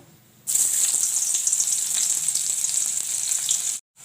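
Onion dropped into hot oil in a pan after frying bombil fish, bursting into a loud, steady sizzle that runs for several seconds before cutting off abruptly near the end.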